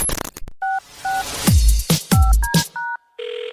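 Telephone keypad dialing tones: a string of short, loud beeps in steady steps, some paired, broken by whooshing transition noises and ending on a brief buzzy tone, with no voices.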